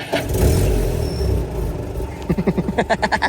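Manual car with a smoking engine, gas pedal pressed after a stall: a low rumble of the motor rising and falling, then a run of rhythmic, pulsing revs, loud and close.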